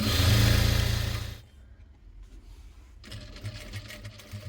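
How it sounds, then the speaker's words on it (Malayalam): Sewing machine stitching a bag runs in a loud, steady whir for just over a second, then stops, followed by faint handling and rustling of fabric. "ലോക്ക് ചെയ്ത് തയ്ച്ചിട്ട് ഫുള്ളായിട്ട് ഇങ്ങനെ സ്റ്റിച്ച് ചെയ്തെടുക്കുക."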